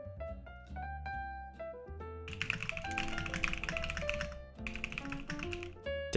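Loud computer keyboard typing, with rapid close-up key clicks that come in bursts of dense clattering over steady background music.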